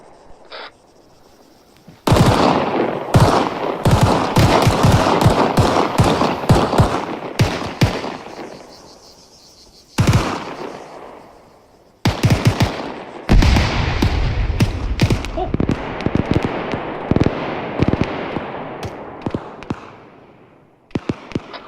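Rapid gunfire in Rainbow Six Siege, loud bursts of automatic rifle fire crackling in long volleys with brief pauses between them, close and dominant, with little or no talk.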